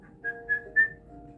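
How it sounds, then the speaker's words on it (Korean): A person whistles three short, clear rising notes during a facial nerve check, quiet and close, with faint room hum between them. "휘파람 소리가 납니다"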